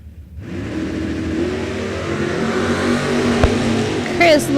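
Drag cars, a 1977 Vega and a 1994 Camaro, launch down the strip, engines roaring up loud and rising in pitch from a quiet start, with an announcer talking over it.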